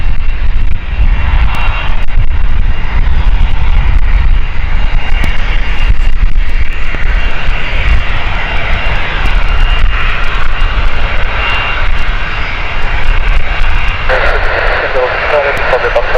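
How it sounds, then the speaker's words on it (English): A Cessna Citation XLS business jet at London City Airport gives a loud, steady engine roar that holds evenly throughout, with voices talking over it. "this is the Citation XLS that came in earlier"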